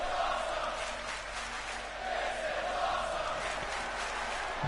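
A crowd at a wrestling event roars in a steady, distant wash of cheering and shouting that swells slightly and fades, with no clear single voices standing out.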